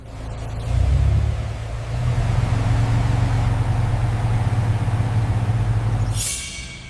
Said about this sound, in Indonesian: Suara mobil siapa itu, asisten?